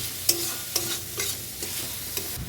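Onions frying in oil until reddish-brown, a soft background sizzle broken by several sharp stirring scrapes and clinks at irregular intervals, with no talking.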